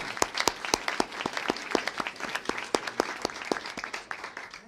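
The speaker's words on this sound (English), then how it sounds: "Can you give them a big round of applause?" Scattered applause from an audience thanking healthcare professionals at a governor's briefing on Medicaid cuts, a sparse patter of individual claps with sharp distinct hits, moderately close, no talk over it.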